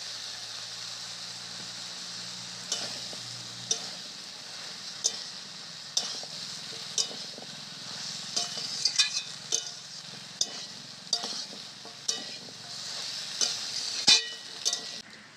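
Fried potatoes and carrots added to a hot pan for a vegetarian curry, a steady bright sizzle with regular spatula clinks and scrapes at a moderate level, no voices.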